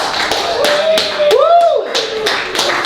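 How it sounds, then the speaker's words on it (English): An audience at a book release reading claps for a poet, a brief round of applause with scattered sharp claps, while a voice talks over part of it. "Let's give him a round of applause."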